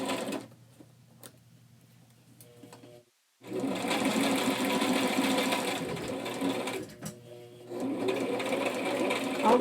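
A sewing machine stitches through plastic for a zippered pouch made from trash, running in two loud, steady bursts close by with a short pause between, after a quieter stretch of handling.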